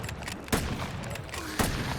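Sniper rifle fire in a video game, two sharp reports about a second apart over a dense, noisy game soundscape.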